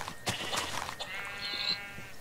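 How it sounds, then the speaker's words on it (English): A sheep bleats in the blocky sandbox game Minecraft, with several short wavering calls followed by a longer drawn-out bleat, close and clear over a quiet background. "No, that's a sheep."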